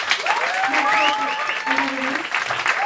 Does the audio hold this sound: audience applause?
yes